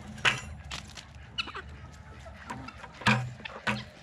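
Chickens cluck in short scattered bursts nearby while being hand-fed, fairly faint and soft.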